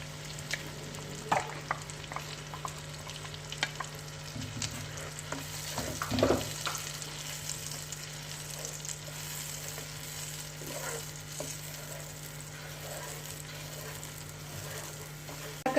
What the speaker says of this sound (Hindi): अदरक लहसुन को 1 मिनट तकरीबन पकाना है और उसके बाद इसमें टमाटर प्यूरी डाल देनी है।